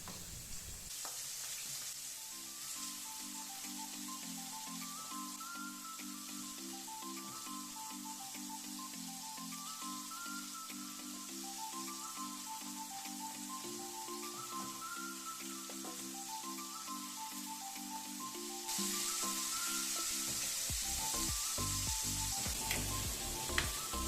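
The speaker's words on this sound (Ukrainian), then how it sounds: "Рибку обмочуємо у борошно і обжарюємо з двох сторін" Flour-coated hake fillets fry in a pan with a steady, even sizzle that keeps going throughout and grows slightly louder and brighter near the end.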